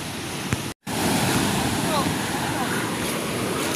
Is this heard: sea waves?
yes